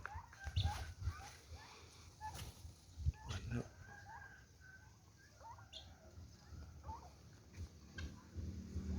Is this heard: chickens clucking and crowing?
yes